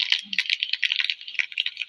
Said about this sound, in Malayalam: കടു പൊട്ടാൻ തുടങ്ങിയിട്ടുണ്ട്